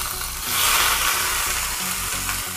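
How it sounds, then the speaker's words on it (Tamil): Okra pieces sautéing in hot oil over a low flame for mor kuzhambu, a steady dense close sizzle with faint rhythmic stirring scrapes beneath, no talking. "அடுப்பை வந்து சிம்மில் வச்சு நல்லா வதக்கிக்கணும். வெண்டைக்காயை ஒரு 5 நிமிஷம் நல்லா வதங்கணும்."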